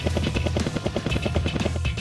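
Rapid rhythmic thumping of helicopter rotor blades over a low engine drone, loud and steady throughout.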